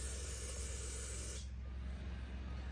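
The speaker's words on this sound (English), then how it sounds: "Let's spray a little carb cleaner on there." Carb cleaner blasts from an aerosol spray can onto parts of a rough-running Stihl chainsaw being rebuilt, a loud steady hiss for about a second and a half that then cuts off, leaving quieter background noise.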